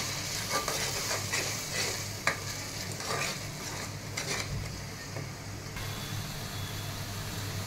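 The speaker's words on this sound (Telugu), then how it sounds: "కొద్దిగా మసాలా టమాటా పేస్ట్, 2 టమాటాలు పేస్ట్ చేసుకున్నాను. ఇది బాగా ఫ్రై చేయాలి." Masala tomato paste fries in a pan with a steady close sizzle and occasional scraping as it is stirred, fairly quiet with a low hum underneath and no speech.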